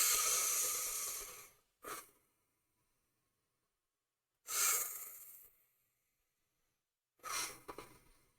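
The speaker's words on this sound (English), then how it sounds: "Let's just do a calming breathing exercise," Slow deep breaths in a calming breathing exercise, three long airy breaths, each loud and close, separated by near silence, with a short snort-like breath after the first.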